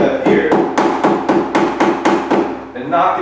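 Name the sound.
rubber mallet knocking golf cart windshield into place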